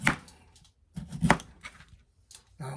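Kitchen knife chopping food on a cutting board during meal prep for foil-wrapped pork and sauerkraut, a few uneven close cuts with short pauses between them.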